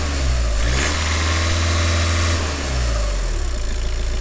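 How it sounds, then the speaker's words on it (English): An Audi TDI diesel engine with a turbo underboost fault revs steadily, a loud, continuous mid-range drone with a slight dip in the middle before climbing again. "Rev it, George!"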